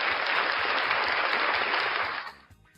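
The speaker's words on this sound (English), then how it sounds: "round of applause for the gorgeous Ray." A studio audience on a morning talk show gives a sustained burst of loud applause that fades out toward the end, with no voices over it.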